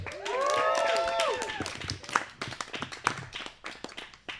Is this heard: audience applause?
yes